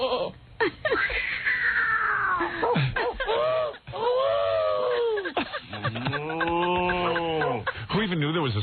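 A long, wavering mooing imitation by a human voice, several drawn-out calls in a row with rising and falling pitch, loud and close, filling the whole stretch with a radio talk-show room tone underneath.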